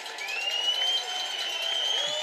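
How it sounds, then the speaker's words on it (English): A Salve Regina football crowd cheers and applauds steadily during a third-down play against Rowan, a dense wash of voices and clapping at fairly close range with a rising whistle-like tone running through it. "Listen to that Salve crowd getting into it."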